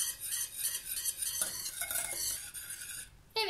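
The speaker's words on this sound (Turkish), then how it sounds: "Şimdi altını kısıyorum ve 2-3 dakika kadar karıştırarak pişiriyorum." A spoon stirring boiling syrup in a pot for a weeping cake, scraping and clinking against the metal in a steady close rhythm with a sizzling bubbling underneath, ending in a sharper clatter.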